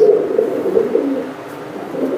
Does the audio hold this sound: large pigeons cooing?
yes